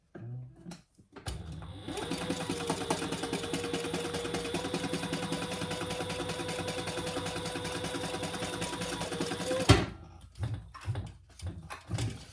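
Sewing machine basting a fabric wallet closed, a steady close mechanical whir of stitching for about eight seconds that stops abruptly, followed by light handling clicks, quiet overall.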